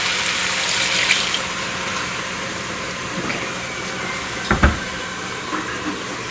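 Water is poured into a stew pot for a New Mexico green chili pork stew broth with chicken bouillon. It makes a steady, close splashing rush with a couple of brief louder gurgles near the end.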